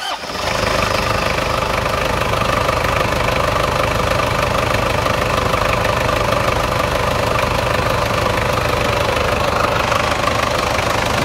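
A Toyota SW4 3.0 turbo diesel engine, just serviced at the intake manifold, starts and runs at a loud, close, steady idle with a continuous rattling diesel clatter throughout.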